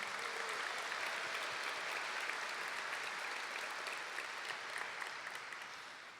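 An audience at a college family welcome event claps steadily and at length, a broad wash of applause heard from within the room that fades slightly toward the end.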